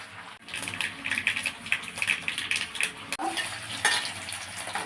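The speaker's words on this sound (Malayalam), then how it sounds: "കടുക് ഇട്ട് കൊടുക്കാം കേട്ടോ" Mustard seeds spluttering and sizzling in hot sesame oil for a lime pickle, a continuous crackling hiss with scattered pops, close and steady, no voices.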